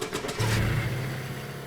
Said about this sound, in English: When you start the engine, the rev counter goes all the way up, and just it hits the red, and the engine shape briefly appears.